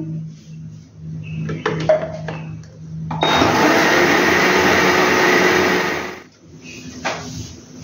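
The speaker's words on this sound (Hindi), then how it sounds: "और दोबारा से ब्लेंड करूंगी।" A kitchen blender whirs loudly for about three seconds while blending thandai with added water, preceded and followed by short clinks and handling noises.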